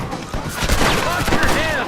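Gunfire in Red Dead Redemption breaks out in a quick scatter of loud, close shots layered with ringing ricochets, and voices shout beneath the brief burst.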